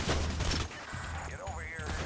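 Rapid, close bursts of gunfire from a sniper in the Heat Street video game crackle in a quick volley at the start, then quieter repeated shots continue beneath a whistling, swooping tone.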